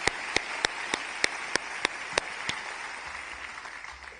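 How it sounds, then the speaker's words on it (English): Audience applause at a New Zealand book awards ceremony, with a regular series of sharp, loud claps standing out over a dense bed of clapping that gradually thins and fades toward the end. "big round of applause"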